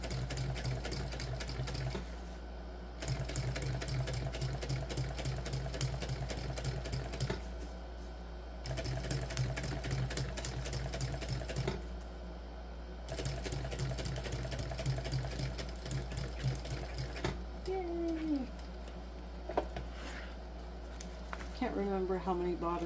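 A sewing machine stitching a crossbody bag, running in several long bursts of rapid, even needle chatter separated by short pauses, close and clear, with someone speaking softly at times.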